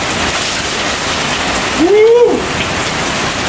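Steady rain hisses loudly all around, and a voice whoops briefly partway through.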